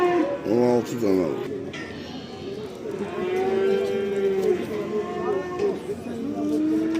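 Calves at a crowded livestock market moo repeatedly, with several drawn-out, close calls rising above a constant din of chatter and people talking nearby.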